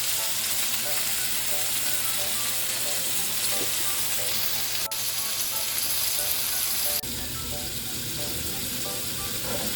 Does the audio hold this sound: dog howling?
no